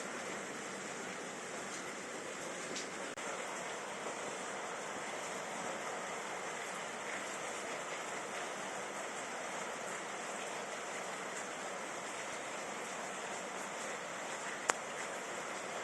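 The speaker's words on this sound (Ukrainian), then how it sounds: "Це почався дощ!" Steady, even hissing rush like heavy rain pouring down, continuous and unbroken, with a single faint click near the end.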